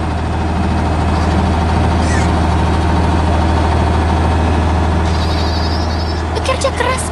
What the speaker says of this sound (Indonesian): Sekarang si beruang beralih ke mesin pemanen hijau yang besar. Dia mulai memotong gandum dengan sangat efisien.